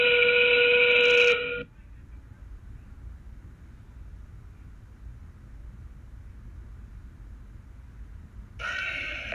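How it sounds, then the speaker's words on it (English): A loud, shrill endgame whistle at an FTC robotics championship match blasts for over a second, followed by quiet arena murmur, then a second whistle blast starts at the end. "And that whistle means endgame."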